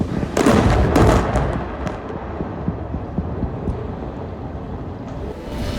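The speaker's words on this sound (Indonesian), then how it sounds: "Inilah momen ketika militer Israel melancarkan serangan udara di wilayah Kanarit, Lebanon Selatan." A heavy blast from an Israeli airstrike in the Kanarit area of southern Lebanon, loud and close at the start, then a low rumbling aftermath with scattered thuds and debris.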